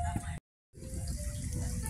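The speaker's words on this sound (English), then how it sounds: "I'm going to go right to the water fountain." Park water fountain running, a steady near splashing and gushing flow that cuts out briefly and then resumes, with a voice talking over it.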